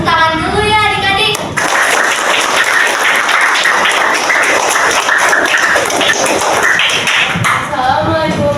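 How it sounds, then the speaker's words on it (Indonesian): Children applaud in a school classroom, a dense burst of clapping filling most of the stretch, loud and close, with a voice speaking just before and after it. "Tepuk tangan dulu ya adik-adik."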